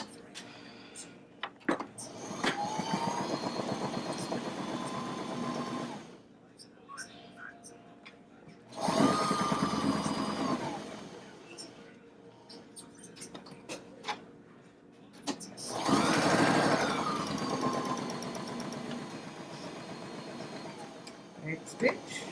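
A sewing machine stitching fabric for a face mask, running in three sustained whirring bursts separated by pauses with ticks and handling noise, under soft whispered talk.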